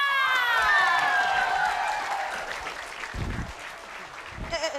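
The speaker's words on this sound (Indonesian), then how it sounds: "Tepuk tangan dulu dong" Studio audience applause on an Indonesian comedy show, a broad wash of clapping and crowd noise that swells then fades, with voices and some shouting mixed in.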